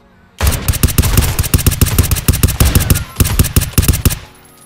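Rapid automatic gunfire from shooting an enemy in the Zero Hour video game, a loud close burst of dozens of sharp shots in quick rhythm, pausing briefly once before tapering off.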